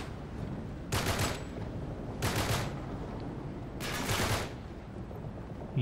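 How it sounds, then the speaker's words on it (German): Rifle gunfire in the video game Uncharted 3, three separate loud bursts of rapid shots, each lasting about half a second, spaced over a steady background of game ambience. "Geht deutlich schneller mit dem Gewehr."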